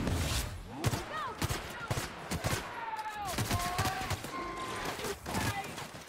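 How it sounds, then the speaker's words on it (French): Gunfire aimed at the player in The Outer Worlds, with rapid bursts and single shots cracking out across several seconds amid game effects, while someone talks over the action. "Et qui me tire dessus?"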